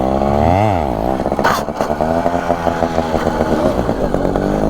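A motorcycle doing a stunt wheelie revs loud and close, the engine pitch climbing and falling in a quick rise and dip, then holding a rough, steady drone with small throttle wobbles.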